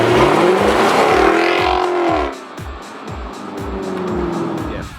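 A sports car driven hard in its sport mode, engine roaring loudly up through the revs, then dropping to a lower rumble with rhythmic gear-change pulses and tire noise, close and continuous without talk.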